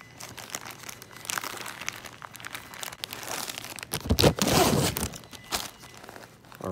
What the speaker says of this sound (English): Comes in a little zip top bag.